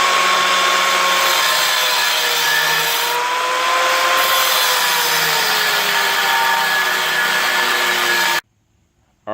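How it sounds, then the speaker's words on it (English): A power cutting tool slices through a BBK long tube exhaust header in a steady, loud, grinding whine that runs for about eight seconds before stopping abruptly. "let's go ahead and chop up this perfectly good BBK long tube"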